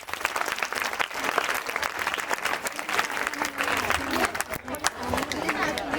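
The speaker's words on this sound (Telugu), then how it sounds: "ఒకసారి గట్టిగా చప్పట్లు కొట్టండి." Steady crowd applause at a school annual day celebration, dense clapping sustained throughout with faint voices and babble mixed in.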